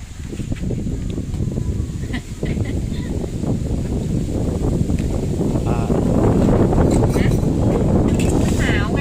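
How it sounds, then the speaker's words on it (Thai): Strong, cold stormy wind roars steadily into the microphone, a loud, rough rumble that builds and stays heavy throughout, with faint clatter underneath. "ลมแรงมาก"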